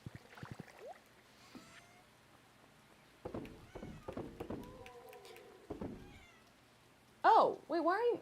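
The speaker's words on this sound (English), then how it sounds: "Why are you meowing at that door?" A cat meows at a closet door indoors, giving a few faint mews and then two louder, close meows near the end, with a person talking quietly between them.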